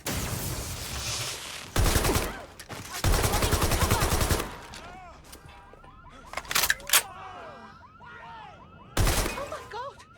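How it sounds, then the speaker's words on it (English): Gunfire in the video game Watch Dogs: Legion: loud rapid bursts of automatic fire come in several blasts, separated by quieter stretches of panicked voices and commotion, with people shouting in between. "Help! I've heard shots!"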